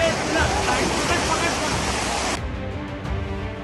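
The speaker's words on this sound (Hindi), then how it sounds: "घरों के बीच में पानी की तेज लहरें सब कुछ तबाह करने के लिए बेताब है" Rushing floodwater surges between houses after heavy rain, a loud, dense, continuous roar of churning water that drops to a lower, rougher wash partway through.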